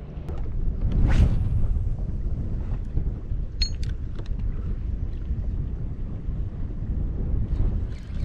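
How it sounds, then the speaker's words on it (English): Wind blows across the saltwater flats off Panama City, Florida, a steady low rumbling buffet on an open microphone with a stronger gust early on and faint splashes, and no talking. "The wind's actually a bit stronger than I actually thought it was supposed to be."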